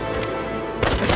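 Gunfire erupts in the tactical battle game Valkyria Revolution, a short loud burst of shots that breaks in abruptly at the end of a brief moment of steady background tone.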